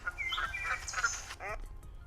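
Several bird calls, quacking and honking like geese, sound at moderate distance, with a few overlapping cries suggesting a small flock.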